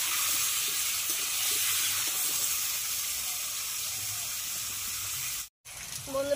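Vegetables sizzle steadily in a hot pan as they are stirred, a constant hiss with soft clinks, broken by a brief silence near the end before the frying returns.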